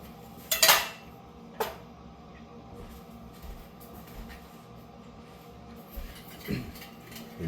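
A flour sifter clatters against pots and utensils in a home kitchen, a few sharp metallic clinks and knocks up close, the loudest bursts near the start, then quieter rattling and handling sounds.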